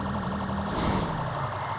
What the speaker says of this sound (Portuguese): Já vou ligar a sirene do giroflex aqui, galera.